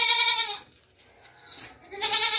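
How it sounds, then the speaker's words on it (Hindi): A large goat at a livestock sale bleats twice, loud and close, with a short quiet gap between the two calls. "बकरी देखें, बहुत ज़बरदस्त बड़ी बकरी है"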